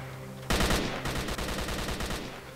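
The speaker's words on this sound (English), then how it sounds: "Oh, somebody's shooting." Bursts of rapid automatic gunfire in STALKER: Call of Pripyat start abruptly after a quiet moment and continue as loud, dense rattling for about two seconds.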